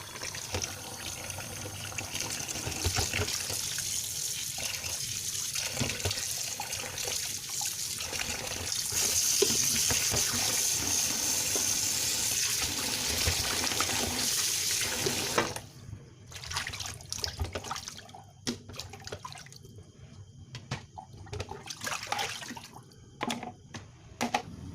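Tap water runs steadily into a sink while beef brisket is washed, a close splashing flow that changes as the meat is handled, then breaks into intermittent splashes and drips after the stream slows.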